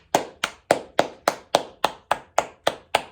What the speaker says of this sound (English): So I think about when you clap, right?